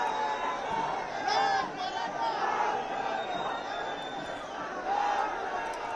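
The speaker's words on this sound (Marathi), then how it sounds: "सतत घोषणाबाजी रेल्वे स्थानक परिसरात केली जाते" Crowds of Maratha protesters at Mumbai's CSMT railway station chant and shout slogans, a loud, continuous babble of many voices with rhythmic swells.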